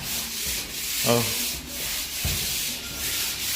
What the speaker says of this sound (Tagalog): Ayan, naglilihan siya.